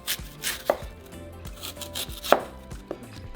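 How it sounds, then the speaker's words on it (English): Knife cutting through apples on a cutting board, a series of crisp close chops and clicks at an uneven rhythm, with no talking. "Okay, so next we're going to cut our apples."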